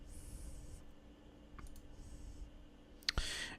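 Menu clicks in the Hearthstone video game, two crisp, close clicks in quick succession near the end following a quiet stretch of interface tones.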